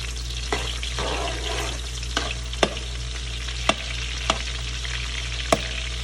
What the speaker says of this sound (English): I'm gonna put the onion inside right now and let the onion fry with the shrimp.